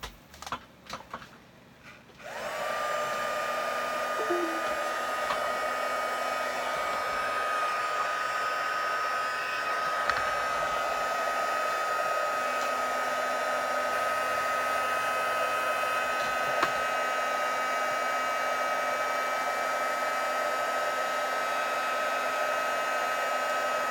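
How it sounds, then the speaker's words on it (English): A heat gun blowing hot air, used on a rooftop repair job, switches on after a brief pause and runs as a steady, loud, close whoosh with a constant tonal whine, continuing unbroken to the end. "now I'm going to heat up my heat gun"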